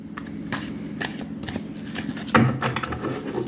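Close-up shuffling of tarot cards: rapid papery riffles and flicks in irregular bursts, with one sharper slap partway through.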